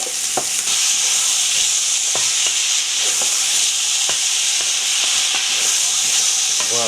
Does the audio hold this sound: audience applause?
no